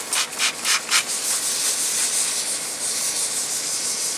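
A hollow wooden piece is sanded by hand with a Siasoft 400-grit pad, a few quick rhythmic rubbing strokes at the start giving way to a steady, close, hissy scrubbing.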